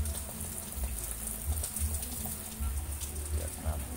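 Water poured over a bonsai cutting medium of mountain soil and rice husk, a soft continuous trickle and splash at close range with a low hum in the background.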